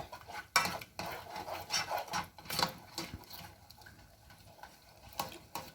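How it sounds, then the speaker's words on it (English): A spoon stirs butter into Tabasco pepper jelly in a small pan until it melts. Soft, irregular scrapes and light clinks sound close but quiet, with no talking. "I will stir it until it's melted"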